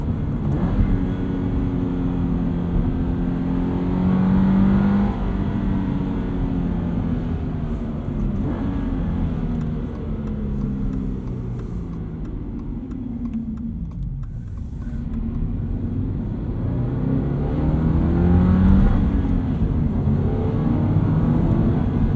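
A 2022 Subaru BRZ with a 6-speed manual revs up steadily under acceleration, its engine note climbing, dipping at a shift, then rising again; a loud, continuous drone with no talk.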